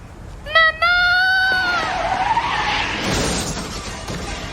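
Cars brake and skid to a stop on a street, with a high squeal and a harsh scraping slide that fades into traffic noise.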